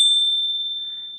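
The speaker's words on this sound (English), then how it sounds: "I've got this bell. You can get these bells online. I got it in India." A ceremonial hand bell from India rings once with a bright, clear strike, and its pure tone rings on steadily and slowly fades, heard alone with no talk.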